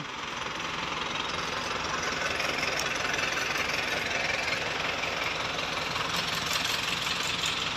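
A diesel tractor engine idles steadily nearby in a rice field, a constant knocking chug with no other sounds.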